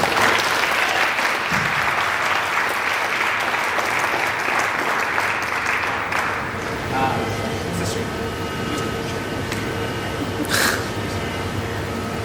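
Audience applause at a student state-of-the-student event, a steady dense wash of clapping for about seven seconds that then thins into quieter room noise with scattered claps and murmuring voices.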